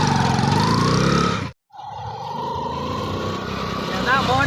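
A motorcycle engine is started and revved, giving a loud, rough roar that cuts out briefly and then resumes as a steady drone.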